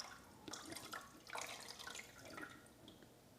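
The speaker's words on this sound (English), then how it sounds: "pour some more in to get it up to 5 liters." Water poured into the reservoir of a Letpot smart hydroponic grow system, a faint splashing trickle that swells and eases in uneven bursts.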